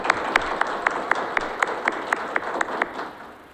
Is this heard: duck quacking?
no